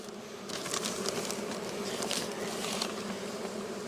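Honeybees from a queenless colony buzz steadily inside an opened hive, a continuous close drone with brief flutters of louder wingbeats, while wind rushes across the scene.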